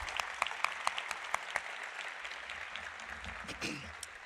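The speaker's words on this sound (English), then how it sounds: "I want our students to just give a round of applause to their friends and family that are here to support them" Medical students at a white coat ceremony applaud friends and family, with a few distinct sharp claps over a softer crowd that gradually thins, heard at a distance with faint voices underneath.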